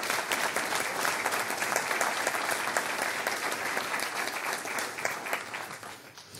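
A crowd claps steadily and densely throughout, sustained applause with no talking, tapering slightly at the end.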